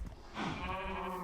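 Sheep bleat in a farm video game where pigs and cows are also kept, a single drawn-out, wavering bleat rising after a brief quiet start and holding steady at moderate loudness.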